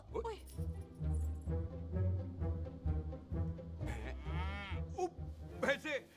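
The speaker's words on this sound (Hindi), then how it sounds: "भैंसों को कौन नहलाएगा?" Buffaloes moo in a rural scene from a Bollywood action film: several low, drawn-out calls rise and fall, close and fairly loud, mixed in with people talking.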